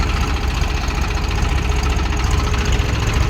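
A Swaraj tractor stuck in a field runs its engine with a loud, steady low rumble and throbbing vibration, holding constant under load with no speech.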